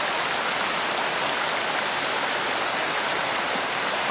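A clear mountain river, the Kokkozka in Crimea, rushes in a dense, continuous wash of water noise, close and loud, with no voices over it.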